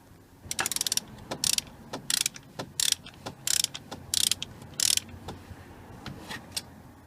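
A ratchet working the bolt on a BMW E46 N42 drivebelt tensioner idler pulley, a series of quick rattling clicking bursts in an uneven rhythm, close and fairly clear, separated by brief pauses, with no talking.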